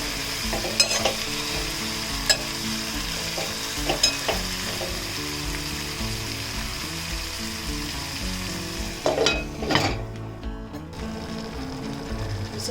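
A banana and fenugreek curry cooks on a very slow flame in a pan, giving a steady gentle sizzle with occasional stirring clinks and scrapes, no talking.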